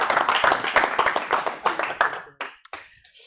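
An audience at an awards show applauds. Brisk hand claps and some cheering fill the room, then thin out to a few scattered claps at the end.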